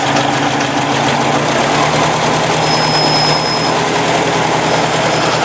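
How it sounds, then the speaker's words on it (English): A 1954 Ford Jubilee NAA tractor engine idles after a cold start, giving a loud, steady, continuous rumble with constant mechanical vibration. No one speaks. "we're gonna go ahead and let her sit here and run"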